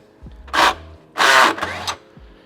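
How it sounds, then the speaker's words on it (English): A 12 mm socket works a sway bar bracket bolt loose on an NA Miata, giving three short, close bursts of rasping metal, with a faint low hum between them. "So we'll take a 12 mil socket"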